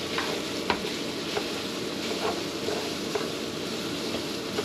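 Sausage fries in a pan with a steady, dense sizzle and faint scrapes of stirring, continuous and fairly close throughout.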